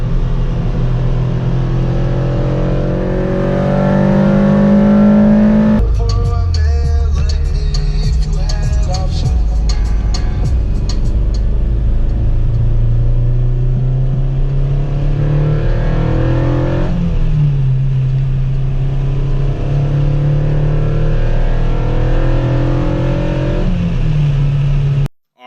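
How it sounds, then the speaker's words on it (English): A Honda Civic Si with a Skunk2 Alpha exhaust and K&N short ram intake drones loudly and close, with throttle blips and rising revs around the middle before it settles back into a steady cruising hum. "ripping around in the SI with the new stock exhaust on with the Skunk 2 Alpha and the K&N short ram"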